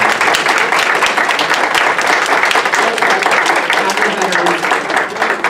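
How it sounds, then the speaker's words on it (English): An audience applauds veterans and their families at a palliative care and hospice awareness event, with steady, dense clapping that carries on loudly for several seconds. "Let's give you guys a round of applause"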